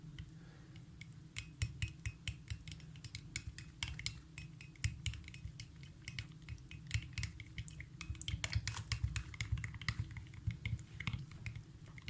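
Faint repeated clicking and scraping of a utensil stirring aloe vera gel hair mask in a bowl, quick irregular taps continuing steadily at close range with no talk.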